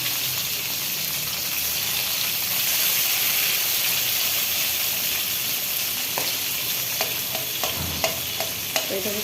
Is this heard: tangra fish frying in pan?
yes